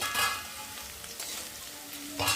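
Potatoes fry in oil in a pan, softened and browning, making a continuous sizzle with a few brighter bursts and soft stirring sounds. No one speaks.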